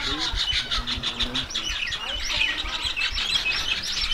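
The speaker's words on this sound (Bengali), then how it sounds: "এখানে পাখিগুলো দেখো কিচিরি মিচিরি করে ডাকছে, এটা ন্যাচারাল আওয়াজ" Birds chirp and call outdoors at a resort in the Bandwan area of Purulia, a busy overlapping chorus of bright tweets close by, with a voice talking over it.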